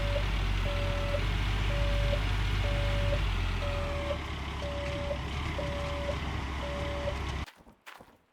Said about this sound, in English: So we're just gonna deal with the beeping.